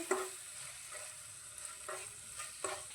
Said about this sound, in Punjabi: ਹੁਣ ਆਪਾਂ ਇਹ ਦੋਨੋਂ ਚੀਜ਼ਾਂ ਮਿਕਸ ਕਰ ਦਾਂਗੇ ਨਮਕ ਮਿਰਚ ਚਟਣੀ ਦੇ ਵਿੱਚ